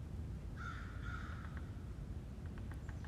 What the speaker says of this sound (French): Les corbeaux